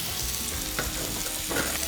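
Smoked strip steaks sear on a hot griddle with a loud, dense, continuous sizzle, punctuated by a couple of brief scraping spatula touches, and nobody speaks.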